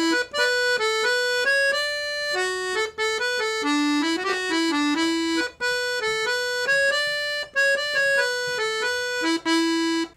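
A 72 bass accordion plays the A section of an Irish jig in E Dorian, bright reedy melody notes in a quick lilting rhythm with brief bellows breaks, solo and close.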